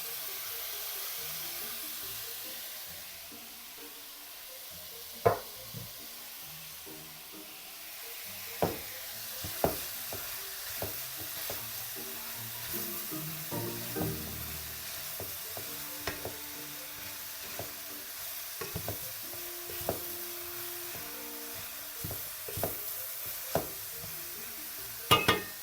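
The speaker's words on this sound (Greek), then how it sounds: "Τα αφήνουμε λίγο στη φωτιά να τσιγαριστεί για να μαραθεί και το πράσο." Leeks sizzle steadily in a frying pan with pancetta, a soft continuous hiss broken by occasional clicks and scrapes of stirring utensils against the pan.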